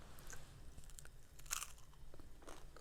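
Someone bites into crunchy Nepali chatamari topped with chicken and egg, giving a few sharp, close crunches followed by soft chewing, quiet and alone.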